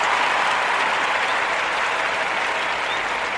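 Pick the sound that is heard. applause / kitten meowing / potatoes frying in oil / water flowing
applause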